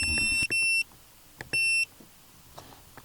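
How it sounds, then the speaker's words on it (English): Alarm beeps from a Snooper Tyre Pilot STP1400 tyre pressure monitor: two clear electronic tone bursts, each about a third of a second, with soft button clicks and handling noise between them. "the alarm to go off,"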